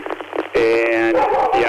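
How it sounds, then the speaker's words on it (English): A dog barks and yips behind a radio transmission in a short, compressed burst under a man's brief speech. "Sorry about that dog."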